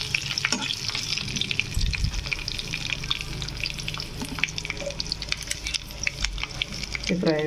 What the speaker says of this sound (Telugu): ఇదిలా వేగుతుండగా కొద్దిగా ఇంగు వేసుకోవాలి.